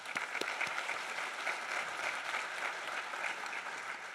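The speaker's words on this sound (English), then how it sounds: "Big round of applause for everyone." An indoor audience at a school district's annual honors night claps steadily throughout, a dense even wash of applause from a large crowd heard from a moderate distance with no voices.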